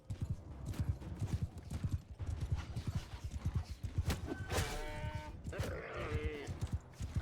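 Cavalry horses charging in the battle game Mount and Blade II: Bannerlord, a rapid stream of hoofbeat clip-clops with a couple of whinnies and metallic clangs rising over the galloping, moderately close, with some voice underneath.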